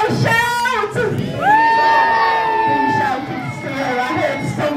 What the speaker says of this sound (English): So if I were to ask you what Callum was, you will shout